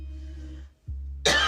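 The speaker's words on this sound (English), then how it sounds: "It's just a dry cough, y'all." A person lets out a single dry cough after a brief pause, loud and close, following a low steady hum of background noise.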